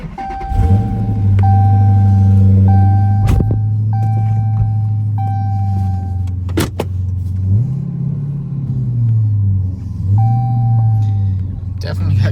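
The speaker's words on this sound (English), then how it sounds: "let's go ahead and pull this car back inside" A rebuilt, once-wrecked Dodge Challenger idles with a deep, steady exhaust rumble as it is driven slowly back inside, the engine note swelling slightly a couple of times under a faint high whine, with people talking nearby.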